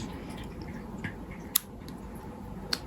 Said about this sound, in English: So you just want to snip it, snip the end.